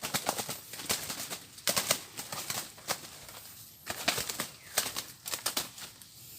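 A bird caught in a primitive rural trap flaps its wings in bursts, sharp fluttering beats coming in irregular clusters, close and fairly quiet with no talk.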